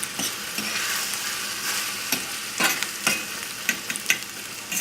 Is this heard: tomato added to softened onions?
yes